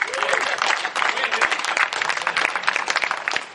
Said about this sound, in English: That'd be a great place to clap right there.